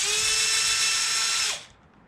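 A power tool spins out throttle linkage bolts on a Losi 5ive T RC truck, a loud, steady high-pitched whir lasting about a second and a half before cutting off and winding down, with no talking.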